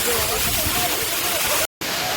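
A waterfall in Wayanad, Kerala, during the dry season, a steady loud rushing wash of water that continues throughout, broken by a brief cut to silence.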